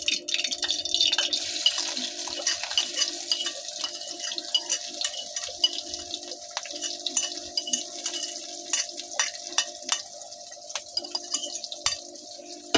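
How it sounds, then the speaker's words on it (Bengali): Chopped onion and chili fry in hot oil for a cheap noodle breakfast, a steady close sizzle with soft crackles and occasional clinks of a utensil stirring the pan. "পেঁয়াজ এবং মরিচ উভয়টা সুন্দর করে ভাজি করে নেবেন, সুন্দর করে একটু ভাজি করবেন।"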